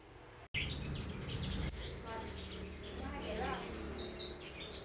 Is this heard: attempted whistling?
no